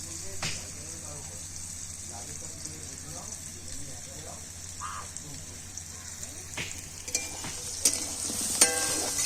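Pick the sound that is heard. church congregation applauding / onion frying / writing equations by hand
onion frying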